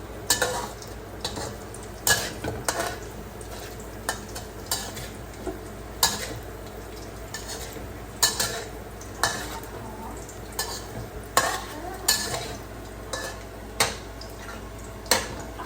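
Vegetables being stir-fried in a pan: a steady low sizzle broken by repeated sharp spatula scrapes and knocks against the metal in an uneven rhythm, close and fairly loud, with no talk.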